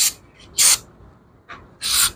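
Carb cleaner sprayed onto a part from a vintage 1971 Moto Guzzi Ambassador police motorcycle: four short aerosol hisses, two faint and two strong bursts, close by with quiet gaps between.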